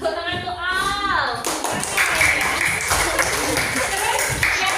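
Children in a classroom clap their hands in a steady, fairly loud burst that runs through most of the moment, mixed with the chatter of kids' voices.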